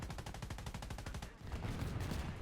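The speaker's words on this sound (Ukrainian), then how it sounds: "Літаєш собі, з гармат усіх пробиваєш." Rapid bursts of aircraft cannon fire from a plane in War Thunder, a fast steady stream of repeated shots that pauses briefly and then resumes, loud and alone with no talking.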